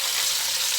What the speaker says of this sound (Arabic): الدجاج وحده راني دايره غير الدجاج، خليه يتقلى مليح هكذا